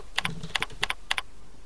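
A master password is typed on a computer keyboard in four quick bursts of two or three key clicks each, crisp and close, with brief pauses between them and no talking.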